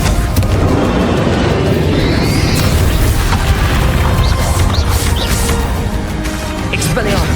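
A Confringo blasting spell going off in the video game Hogwarts Legacy, heard as heavy, booming crashes and bursts amid combat noise. Rapid magical whooshes come in between the blasts.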